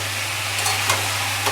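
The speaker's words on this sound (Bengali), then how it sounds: "এবার ঝিঙেগুলো আস্তে আস্তে দিয়ে দেবো" Ridge gourd dropped into sautéed masala in a pan for a bhangor fish curry, a steady sizzle with a few soft stirring scrapes, close and continuous over a low hum.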